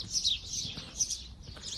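Outdoor birds chirping and tweeting at a site in Egypt, with bursts of high, bright calls and no voices, heard faintly and steadily throughout.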